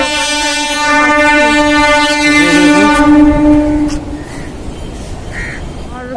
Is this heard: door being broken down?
no